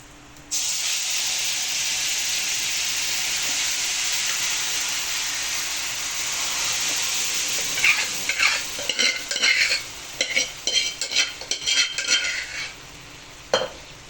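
Boiled chana dal poured into hot oil tempered with cumin and asafoetida sets off a loud, steady sizzle, then breaks into scraping, clinking stirring strokes toward the end.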